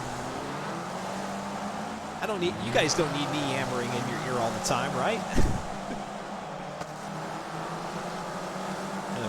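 Race cars in a Forza spec racing series finale drone and whine steadily in the background, engines rising and falling as they pass, while a commentator talks over them.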